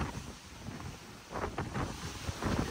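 Strong wind buffets the microphone on a cruise ship's open deck as it sails away from Mexico, a steady rumbling roar with gusts swelling louder toward the end.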